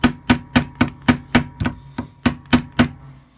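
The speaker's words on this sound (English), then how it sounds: "So you're just peening over that thing, over that Romex, so it acts like a rivet." Hammer peening Romex copper wire into a rivet on a penny padlock, eleven quick, evenly spaced metallic taps close to the mic with short ringing decays.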